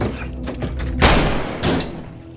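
Gunfire in a Korean revenge drama scene: a rapid series of sharp cracks followed by a louder, heavier blast and another shot that trails off, close and punchy.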